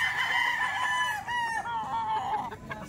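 A young gamecock, an eight-month-old bullstag, crows once in a long, loud, close call that wavers and trails off over about three seconds.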